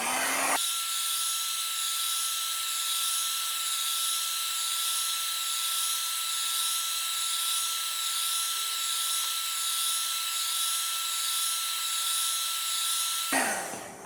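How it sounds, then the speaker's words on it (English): A heat gun blows a steady, loud hiss at close range on the plastic around a Blackmagic Pocket Cinema Camera 4K's LCD, starting abruptly and cutting off just before the end. "be sure to apply the heat gun only to the plastic surrounding the LCD"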